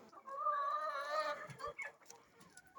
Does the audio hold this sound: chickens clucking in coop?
yes